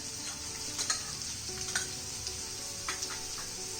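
Capsicum sautéing with translucent onions in a pan, a steady soft sizzle broken by occasional scrapes and stirring clicks, fairly quiet and with no voices.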